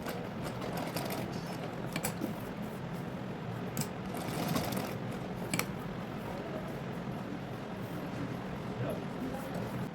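A sewing machine stitches a half-inch folded hem on a tucked blouse, running in a steady mechanical whir with intermittent clicks and short louder bursts.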